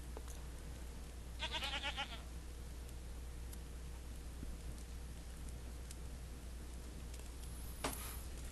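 A few goats bleat in a Second Life desert scene with camels, tents and a campfire, a short harmonic burst early on and a brief cry near the end, over steady low ambient hum and a faint voice.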